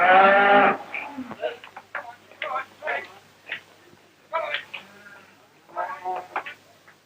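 Cattle at a livestock market in Haywards Heath, Sussex, give a single loud, close moo at the start, followed by someone narrating over a quiet background.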